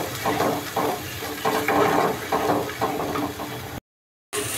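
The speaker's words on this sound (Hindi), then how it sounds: "ये चला चला के फ्राई करेंगे मीडियम फ्लेम पर" Masala frying in oil in a kadhai on a medium flame, stirred steadily for rajma curry: a loud, continuous sizzle with rhythmic scraping strokes of the spoon, cut by a brief silence near the end.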